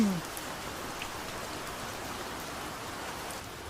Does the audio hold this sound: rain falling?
yes